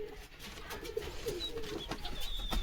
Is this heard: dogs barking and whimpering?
no